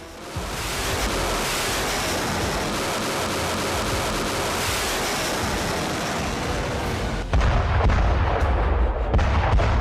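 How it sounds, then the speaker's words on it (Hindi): Artillery fire during a Chinese military exercise in the South China Sea rumbles as a continuous heavy roar, with a sharper, louder burst near the end, and no speech. "ताइवान को टारगेट करके साउथ चाइना सी में जारी चीन की बारूदी एक्सरसाइज"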